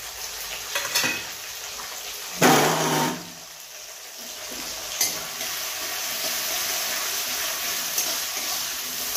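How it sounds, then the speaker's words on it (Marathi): Chopped tomatoes drop into a hot pan of frying potato bhaji, producing a sudden loud sizzling burst that settles into a steady hiss, with a few spatula scrapes and clinks against the pan. "तळल्यानंतर मग आपण टोमॅटो ऍड करायचे त्याच्यामध्ये. तर आपल्याला टाकून घ्यायचे टोमॅटो."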